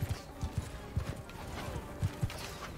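Horse hooves pound in a quick, uneven gallop in the medieval battle game Mount & Blade II: Bannerlord, with repeated thudding clip-clops close by and a faint whinny under the rhythm.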